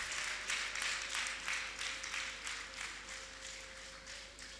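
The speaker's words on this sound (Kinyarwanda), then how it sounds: "Amashyi, amashyi," Crowd applause at a Rwandan wedding gathering, a steady wash of many hands clapping with rhythmic swells, held at moderate level throughout and slowly fading toward the end.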